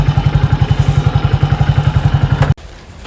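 A motorcycle engine thumps close and loud in a fast, even beat for over two seconds, then cuts off abruptly, leaving only quiet background hiss.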